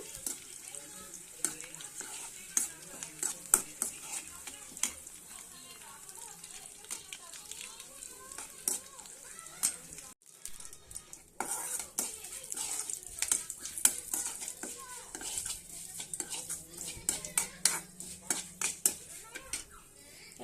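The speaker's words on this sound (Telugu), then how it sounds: "పచ్చిమిర్చి అని రెండు ఎండుమిరపకాయలు తీసాను ఇవి కూడా వేయించుకుంటాను" Garlic and dried red chillies fry in a pan for an okra stir-fry, with a continuous crackling sizzle and frequent sharp utensil taps against the metal through the scene.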